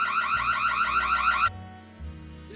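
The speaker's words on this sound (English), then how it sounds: "Alarm's going off." An alarm blares in the VR Chat Prison Escape game, a loud rapidly warbling electronic tone for about a second and a half before cutting off, leaving low hum and faint background voices.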